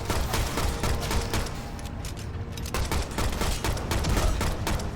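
Dense, continuous rapid gunfire in the Shadow Complex Remastered video game, a loud sustained barrage of shots with booming impacts as cover is blasted apart, with no pauses.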